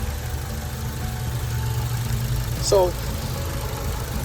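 A Hyundai Elantra engine idling, a steady low mechanical hum with light ticking, heard close while someone talks briefly over it.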